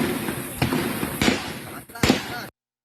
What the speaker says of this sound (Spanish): Se escucharon fuertes disparos y se vio salir humo del edificio.